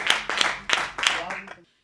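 Audience claps in bursts to welcome a poet onto the stage at a Hindi comedy poetry event, a few short uneven waves of applause that fade out quickly.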